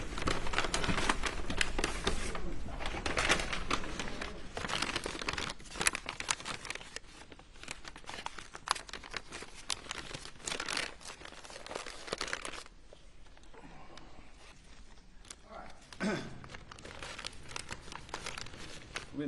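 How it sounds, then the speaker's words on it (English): A plastic evidence bag is handled in a courtroom, giving close, irregular crinkling and rustling bursts that come and go over quiet room tone, with no talk. "put those back in the plastic bag for me"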